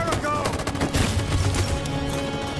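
Loud automatic gunfire crackles without a pause during a firefight in Detroit: Become Human, with soldiers laying down covering fire. A voice can be heard faintly underneath the shooting.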